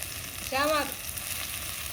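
Mint, coriander and sorrel leaves frying in a pan, a steady close sizzle broken midway by a brief, squeaky scraping tone.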